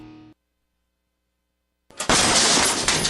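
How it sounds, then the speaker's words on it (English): A door smashed open by an intruder with a single forceful kick: a sudden loud broadband crash and splintering burst after a short silence, ringing on for about a second. "That's the sound of your door being kicked in by an intruder with a single kick."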